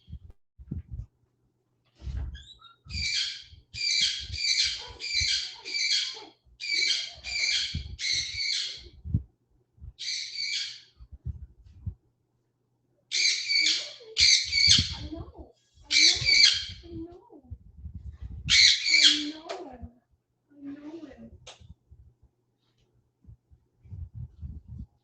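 Pet bird squawking in repeated bursts of harsh, close calls, clustered in quick runs with short gaps, loud and clear in an indoor room with faint low thumps and handling noises between calls.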